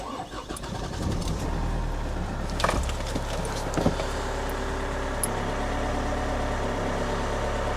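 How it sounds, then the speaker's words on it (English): A car engine cranks and catches with a couple of sharp bursts, then settles into a steady, close idle hum. "Let's turn the engine on."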